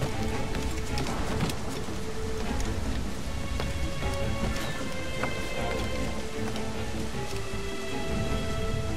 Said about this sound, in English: Hopefully the rain will get me a little bit of cover here.